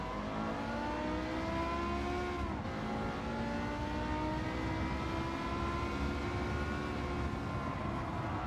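Race car engine in Gran Turismo 7 while overtaking a yellow Porsche: a steady, fairly quiet whine of engines with rising and falling harmonic tones and a brief gear-shift dip partway through.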